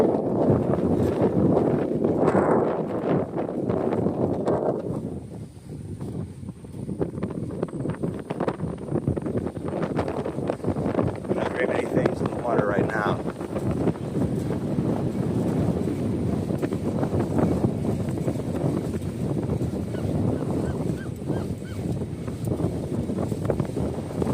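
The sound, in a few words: strong wind while bicycling around lakes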